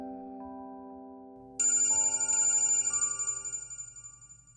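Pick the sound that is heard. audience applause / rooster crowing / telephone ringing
telephone ringing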